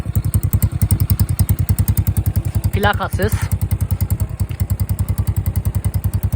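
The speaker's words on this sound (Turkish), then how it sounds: "Egzoz bu şekilde. Orijinal ama içi boş." A Yuki Gusto 125 cc scooter with a hollowed-out original exhaust idles close by, loud and rapidly pulsing with a rough, even beat throughout, while someone briefly speaks over it.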